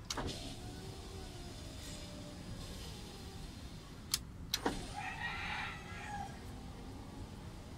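Rear driver-side electric window motor on a car with a faulty window switch, a low steady whir held for several seconds, followed by a couple of sharp clicks and a brief mechanical rattle.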